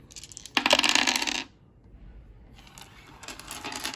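Plastic dice from a Warhammer Quest: Cursed City board game drop onto a table, giving a sharp, close rattling clatter, a short pause, then a second, softer burst of tumbling clicks.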